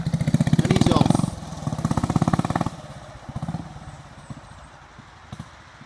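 A 1940 Royal Enfield Model C motorcycle engine thumps in a rapid, steady rhythm as the bike rides round nearby, swelling loud then fading into the distance, with people talking over it.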